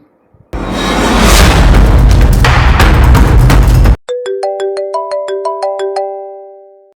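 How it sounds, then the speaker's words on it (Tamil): A loud booming burst for a few seconds, then a phone ringtone plays a bright repeating electronic melody of short tones. "சக்தி ஃபோன் பண்றாளா சரி என்னன்னு கேட்போம்"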